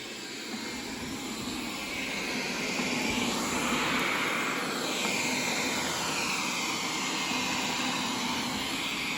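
Wyze robot vacuum with LIDAR running on a floor, a steady broadband whirring hum with a high whine on top, constant and fairly loud throughout with no talking.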